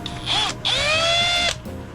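A power driver sends a screw through metal pieces in two close bursts of high, rising mechanical whirring, the second longer than the first, with a faint clunk between them.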